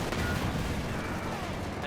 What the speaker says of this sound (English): tank gun to the rescue, the Panzer Kanone 40